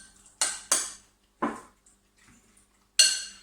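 Spoon scraping and clinking in a bowl as garlic mix is stirred into a tandoori chicken marinade, several short separate clatters with quiet gaps between them.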